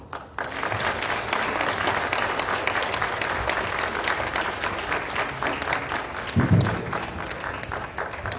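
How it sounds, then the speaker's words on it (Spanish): Steady applause from a crowd at a ceremony handing out breast prostheses, filling the room evenly for about eight seconds with a brief low thump partway through. "Fuerte el aplauso para todas las beneficiarias de esta jornada de entrega de prótesis."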